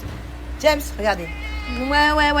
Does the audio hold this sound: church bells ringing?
no